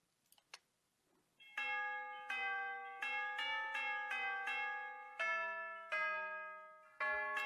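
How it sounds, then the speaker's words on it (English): Tubular bells from a Halloween game soundtrack strike a slow series of ringing, resonant tones, each sustaining and overlapping the next, after a few brief faint knocks at the start. "I have bells, tubular bells."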